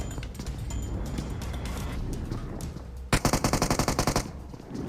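Gunfire in PUBG Mobile: a rapid burst of about a dozen sharp, evenly spaced automatic shots rings out loud and close after a stretch of softer in-game background noise and distant clatter.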